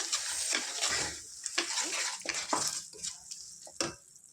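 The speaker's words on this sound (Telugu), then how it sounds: "అల్లం వెల్లుల్లి పేస్ట్ పచ్చివాసన పోయేంత వరకు ఫ్రై చేసుకోవాలి" Ginger garlic paste and turmeric fry in a pan for a Telangana-style fish curry, a close, busy sizzle broken by repeated stirring scrapes and clinks of a utensil against the metal.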